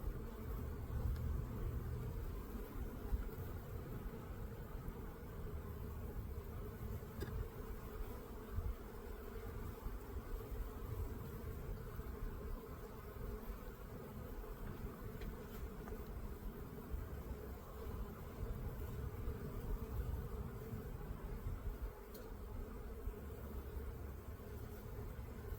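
Honeybees buzz around an opened hive during a spring inspection, a faint, continuous droning hum with occasional nearer passes, quiet and without speech.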